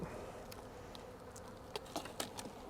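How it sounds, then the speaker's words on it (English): Faint, steady honey bee buzzing fills the background around a small swarm from an overwintered nucleus hive, with a few brief louder passes as bees fly close by. "There's a lot of bees still up on that."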